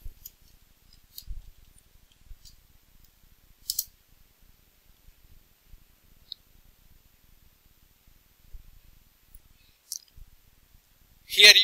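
Sparse, quiet clicks of a computer mouse tap out at scattered intervals across near-silence, ending with a louder burst of clicking.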